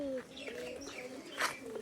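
A caged pigeon coos in low, repeated rolling notes close by, with a brief sharper chirp near the end.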